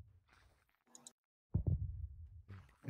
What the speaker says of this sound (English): The heartbeat is slowed down. The warden heartbeat.